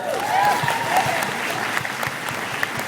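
Applause from an expo audience during an interview panel, a steady wash of clapping hands that holds strong and then gradually thins out, heard without any speech.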